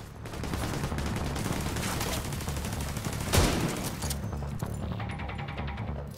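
Dense rattling gunfire in the video game Tom Clancy's The Division 2, rapid automatic bursts under a steady roar of combat, with one sharp louder shot partway through.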